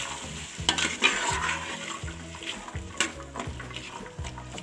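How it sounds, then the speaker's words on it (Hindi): Green peas being stirred into masala frying in a pan for matar pulao, a rhythmic series of scraping spoon strokes over a bubbling sizzle, close up and without talking. "इसके अंदर मैं डाल दूँगी मटर और इसे अच्छी तरह मिक्स कर देंगे"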